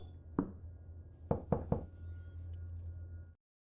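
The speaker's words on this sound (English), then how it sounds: "you can hear someone knock back" Three sharp knocks on a wall in the horror game P.T., after one earlier knock, quick and close together over a steady low hum in a quiet hallway.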